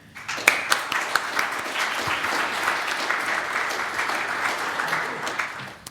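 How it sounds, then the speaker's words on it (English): A Python conference audience gives a warm round of applause to welcome a speaker. The clapping swells quickly with a few sharp early claps, then holds as a dense, steady roar before thinning at the end. "Let's give a large, warm round of applause for Christopher."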